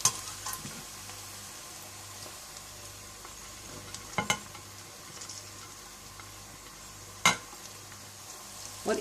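Chopped ginger and garlic fry with browning onions, giving a faint steady sizzle throughout, punctuated by a few sharp clinks of a spoon stirring against the pan.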